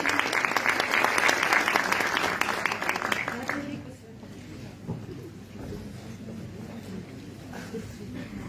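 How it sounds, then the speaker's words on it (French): A conference audience applauds a speaker in a dense burst of clapping for about four seconds, then it tapers into scattered claps and room murmur. "Applaudissez s'il vous plaît"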